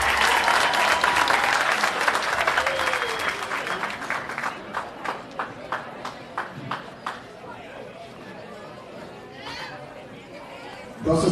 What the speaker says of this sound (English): Let's give a round of applause to the Dominican Court Association of Yonkers Dance Group.